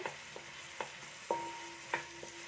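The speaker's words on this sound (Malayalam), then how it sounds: "ഇഞ്ചിയും വെളുത്തുള്ളിയുടെ ചതച്ചതും ഞാൻ ഇതിൽ കൂടി ചേർക്കുന്നുണ്ട്" Crushed ginger and garlic fry quietly in a pan, a soft sizzle broken by several sharp clinks of a spoon stirring against the metal, with no voices.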